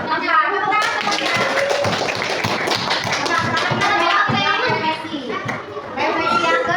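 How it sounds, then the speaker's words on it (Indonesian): A classroom of children claps for a group, rhythmic hand claps mixed with lively children's voices and chatter throughout. "Tepuk tangan semuanya."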